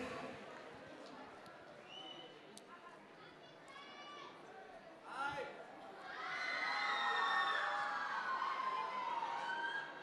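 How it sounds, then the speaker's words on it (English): Crowd at a Gardenia 2019 art event cheering for a new artwork, starting with scattered shouts and voices, then swelling after the midpoint into loud, sustained group cheering. "Let's clap, let's give it out"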